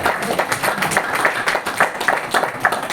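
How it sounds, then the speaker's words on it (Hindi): An audience at a Hindi-language talk bursts into steady clapping, a dense run of overlapping hand claps at moderate loudness that holds for a few seconds. "कृष्ण जी के लिए तालियां बजाई दो"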